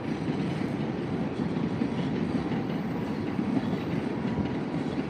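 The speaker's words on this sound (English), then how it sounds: "There goes another Tokaido Shinkansen." A Tokaido Shinkansen bullet train rolls through Tokyo Station, heard from an overlooking building as a steady low rumble with faint rhythmic wheel clatter, continuous and fairly loud without any voices.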